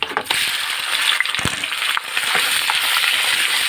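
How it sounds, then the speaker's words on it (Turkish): Lamb tail fat sizzles and crackles hard in a hot pan, a dense continuous hiss with scattered pops and a few scraping clinks of a utensil against the metal. "Tavada yağı iyice kızarttım. Kuyruk yağı."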